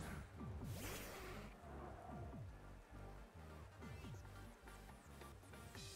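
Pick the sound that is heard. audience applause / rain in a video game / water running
rain in a video game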